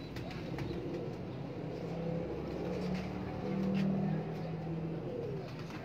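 Noor Jamal pigeons coo in soft, low repeated phrases that swell slightly midway, set against a steady background rumble.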